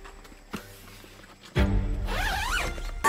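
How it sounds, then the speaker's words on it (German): A clothing zipper is pulled up in one close, loud, rasping sweep lasting over a second, preceded by faint rustling and a soft bump. "Den Reißverschluss hochziehen."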